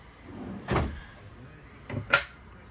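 RV cabinet doors and drawers with stainless steel locks shut in quick succession inside a travel trailer: one solid thud, then a pair of sharp closing knocks close by, with quiet between them.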